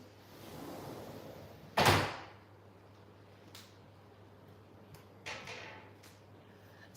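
A door bangs once, a single sharp knock that stands out above a faint steady hum in a quiet room, with a couple of softer bumps afterward.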